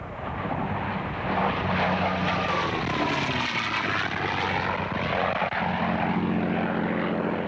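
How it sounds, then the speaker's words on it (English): A restored P-51 Mustang fighter plane flies past, its propeller engine giving a loud, continuous droning roar that swells and shifts in pitch as it passes. "The P-51 Mustang is now on its way back to Florida."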